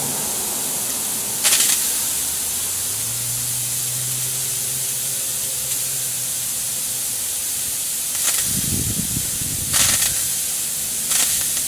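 Compressed air blows water out of an inground sprinkler system being winterized, a steady broad hiss throughout with a few brief sharper spurts and a low gurgling sputter partway through.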